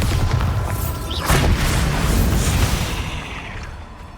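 Bombarda spell explosion in the video game Hogwarts Legacy, a loud booming blast with a rumbling low-end tail that fades over a few seconds, heard alone without talk.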